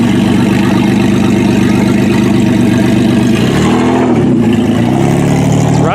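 A demolition derby truck's engine runs loud and close at a steady idle with a brief dip and rev near the end, with no talk.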